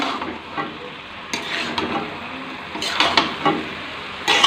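Cauliflower with tomato sauce and chilli sauce is stirred and mixed in a frying pan, a run of scraping, tossing strokes over a soft sizzle, near and without talking.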